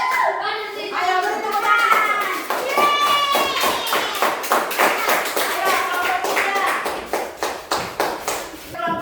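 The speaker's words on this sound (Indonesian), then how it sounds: "Ayo beri tepuk tangan." Children clap their hands in applause in a classroom, a rapid dense patter that thins into a few uneven claps at the end, with children's voices and chatter mixed in.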